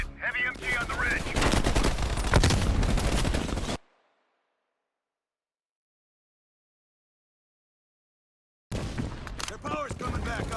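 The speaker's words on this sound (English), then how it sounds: "Watch it. Heavy MG on the ridge." A heavy machine gun fires from a ridge in Call of Duty: Black Ops Cold War, loud rapid bursts under talk, then a stretch of silence before more gunfire resumes.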